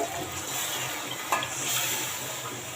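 Boal fish curry being braised in a pan as water or broth is added, giving a steady broad sizzle and bubbling with one brief clatter midway.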